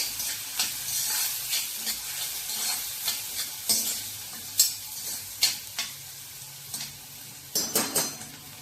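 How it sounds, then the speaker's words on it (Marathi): Onion with turmeric is sautéed in a pan, a soft sizzle beneath frequent spoon scrapes and metallic clinks against the pan, the stirring strokes coming in an uneven rhythm, loudest near the end. "आपण कांदा चांगला परतून घेऊया."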